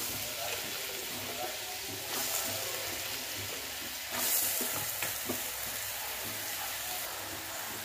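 Red chilli powder, spices and cut potatoes frying in a pan for pav bhaji, a steady close sizzle with stirring scrapes and brief louder bursts as ingredients go in.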